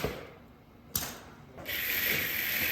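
A competition robot fires a ball: a sharp mechanical clack as its small lever snaps, then the whine of two spinning motors rising into a steady high hum, nearby and moderately loud.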